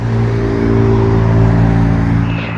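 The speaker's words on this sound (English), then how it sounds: "the road through the park there with the heavy traffic on it" Heavy road traffic rumbles through the Bois de Vincennes park in Paris, a loud continuous engine drone close by that eases off at the very end.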